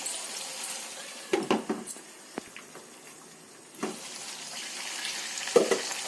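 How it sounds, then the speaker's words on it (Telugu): Fish frying in a pan for a Telugu fish curry, a soft low sizzle with scattered clinks and scraping stirs, fairly quiet and close, no speech. "ఫిష్ ఫ్రై అయిపోయండి, తీసేసుకుందాం ఇప్పుడు వీటిని."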